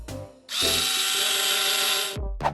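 A power screwdriver whirs up with a high, steady motor whine for about a second and a half as it drives a screw into a wooden bunk bed board, then winds down, followed by a short rattle.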